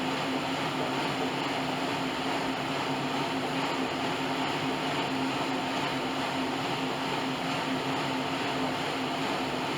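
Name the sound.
Bowflex Max Trainer exercise machine spinning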